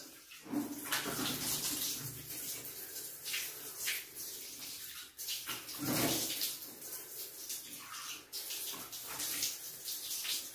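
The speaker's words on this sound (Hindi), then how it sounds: "वो मैं आपको करके दिखाता हूं कि हम चेहरा कैसे धोएंगे।" Water splashing and running from a tap while a face is washed, a continuous close wash of water with brief louder splashes of cupped handfuls, no voices over it.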